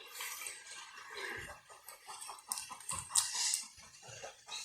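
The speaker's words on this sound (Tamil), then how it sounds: "கரண்டியால கலக்கி விடுவோம்." A ladle scrapes and clinks against the pot as crab curry, made with stone-ground spices, is stirred over a village-style hearth, the irregular metallic knocks and scrapes close and fairly quiet, with a dog or chickens faintly audible in the background.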